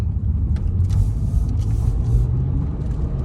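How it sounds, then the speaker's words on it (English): A 2007 Acura TL engine with VTEC pulls toward high RPM during a drive, a steady, loud, low engine drone and road rumble that holds throughout with no voices over it. "That's some VTEC when you get into the higher RPMs."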